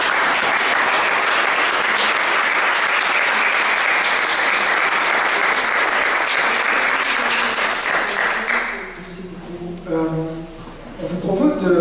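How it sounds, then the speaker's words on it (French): An audience at a history lecture applauds warmly, a full, sustained roar of clapping for about eight seconds that then cuts off as a voice begins speaking. "Je crois qu'on peut applaudir."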